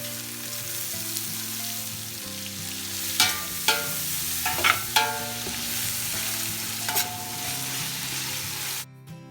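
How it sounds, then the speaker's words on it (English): Sliced onions sauté in hot oil in a pan, a loud continuous sizzle with several sharp stirring scrapes, over quiet background music. "Now into the same oil, adding sliced onions."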